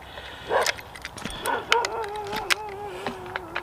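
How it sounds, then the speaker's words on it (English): A dog barks in short sharp bursts a few times at a carp fishing lake, moderately close, over outdoor background noise with a faint steady whine running through. "noisy dog"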